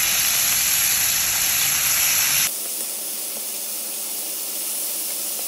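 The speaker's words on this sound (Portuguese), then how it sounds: "Agora nós vamos virar todos eles para fritar o outro lado." Chicken breast fries in a pan with a loud, steady hiss and sizzle that drops abruptly to a quieter crackle partway through, with no voices.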